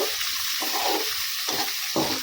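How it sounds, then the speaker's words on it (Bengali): Soaked dried bamboo-leaf fish (fewa shutki) fries in a pan, giving a loud, continuous close sizzle with rhythmic stirring strokes that briefly swell the sound every half second or so. "একটু ভালো করে ভেজে নিব"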